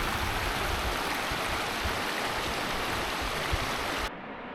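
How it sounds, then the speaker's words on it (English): A mountain river in Norway's Jotunheimen rushes nearby, a loud, constant roar of flowing water that drops away abruptly near the end. "The water stream is over there."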